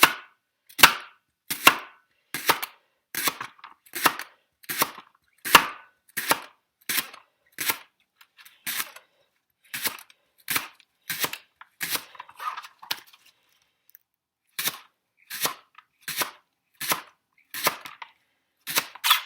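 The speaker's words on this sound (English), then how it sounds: "Now, once you're done slicing the leeks and preparing them this way" A knife slices leeks on a cutting board in a steady run of crisp, close chops, about one per second, with a short pause partway through.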